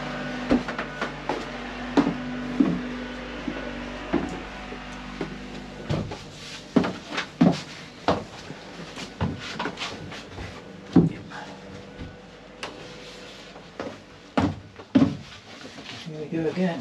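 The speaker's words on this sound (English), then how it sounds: "This is the door to go on the back access panel for the rudder." A wooden access panel door for a boat's rudder, on a barge under construction, is worked open and shut, giving repeated sharp knocks and clacks throughout, with talk and workshop noise between the hits.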